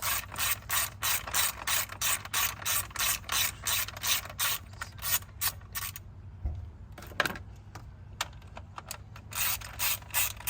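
A hand ratchet clicks rapidly in steady bursts while loosening bolts on a 2008 Ford Escape V6, loud and close, then pauses with a few faint knocks before brief clicking resumes.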